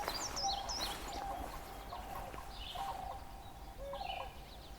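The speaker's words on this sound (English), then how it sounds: "Sandhill cranes." Sandhill cranes call at Otter Lake in a series of rattling, trumpeting bursts, some overlapping, over a soft outdoor background at moderate distance, and no one speaks.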